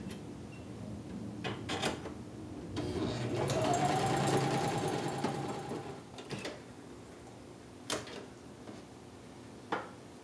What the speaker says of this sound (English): Otherwise, go ahead and just sew that side together.